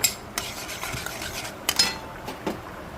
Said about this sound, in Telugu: మనం మెంతులు ఆవాలు వేగుతున్నాయండి